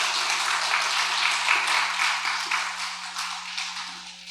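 A church congregation claps together in steady, dense applause at a Wednesday worship service, holding loud for a few seconds before tapering off toward the end.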